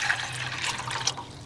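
Water is poured from a scoop into a van's onboard water system, a short gurgling splash of liquid filling a container up close.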